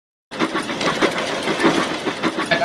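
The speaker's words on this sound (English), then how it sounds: "you got these small engine puffing sounds" A small steam engine chuffs in quick, rhythmic puffs, a steady pulsing exhaust sound close up with no voices.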